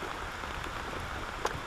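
Rain beginning to pour outdoors during a fishing trip as a cold front arrives, a steady hiss of drops on surfaces with a single brief tap near the end.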